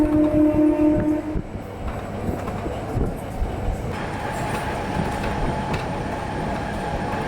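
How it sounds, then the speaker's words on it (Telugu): The Simhadri Express rolls in on the Visakhapatnam–Guntur line, a steady rumble of wagons and rhythmic wheel clatter close by, with a brief horn tone at the start. "మన ట్రైన్ వచ్చేసిందండి"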